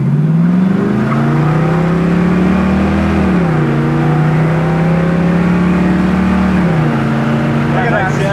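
A 1968 Camaro V8 pulls through its gears from inside the car, its loud engine drone rising in pitch, dipping at each shift and climbing again, with steady road roar beneath.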